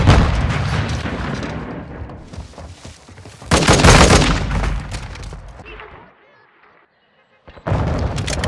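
Loud blasts and gunfire in Call of Duty Modern Warfare 2 multiplayer at Breenbergh Hotel, including a stun grenade explosion, heavy booming bursts followed by a sudden drop to near silence, with an announcer voice in the mix.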